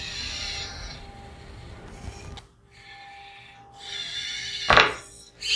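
Servos of a DOFBOT robot arm whir through a calibration action group in stop-start bursts of mechanical buzzing, with short pauses between moves and a sharper scraping burst near the end.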